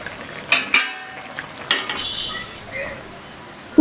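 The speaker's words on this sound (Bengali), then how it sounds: "এবার আমি কিছুক্ষণের জন্য এটা ঢাকা দিয়ে দেব আলুগুলো সেদ্ধ করার জন্য।" A lid is set over a pan of cooking potatoes, with a few sharp metallic clinks and knocks against a faint background sizzle, quieter stretches between the hits.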